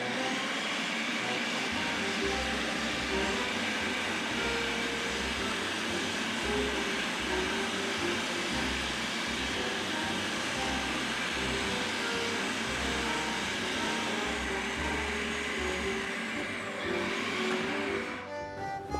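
A blender mixes hummus in a kitchen, a loud, continuous motor whir with a rough churning pulse that runs steadily before winding down at the end.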